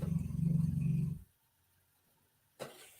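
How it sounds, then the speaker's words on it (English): A sleeping dog growls low and rumbling for about a second, then goes quiet before a brief soft noise near the end; close and fairly faint, with no talking. "I'm watching my dog. He's sleeping, jerking, doing the funky chicken."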